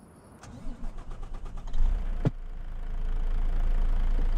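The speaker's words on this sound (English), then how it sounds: "Why is the truck auto starting?" A truck engine in Farming Simulator 25 cranks with a rapid chugging starter rhythm, catches with a sharp knock, then settles into a steady, rising idle rumble, loud and alone.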